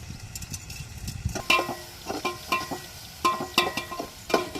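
Green chilli and tomatoes sauté in a cooking pot in a village kitchen, soft sizzling broken by repeated scraping stir strokes at an uneven rhythm.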